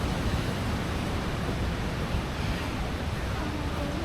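Steady rushing roar of a Scottish waterfall, dense and continuous at a constant level with no pauses.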